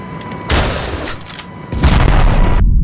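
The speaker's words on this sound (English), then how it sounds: "I like this gun because it's a shotgun" Shotgun blasts in the Ravenfield game: two loud, close booming shots about a second apart, each followed by a rumbling decay, with no talk over them.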